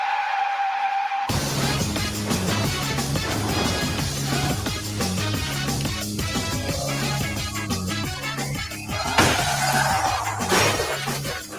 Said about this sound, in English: we had a car crash into a building.